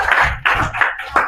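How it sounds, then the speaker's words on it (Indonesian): A classroom of students claps for a student group, a short burst of several sharp, rhythmic handclaps close by, with no talking. "Tepuk tangan dong untuk kelompok 8"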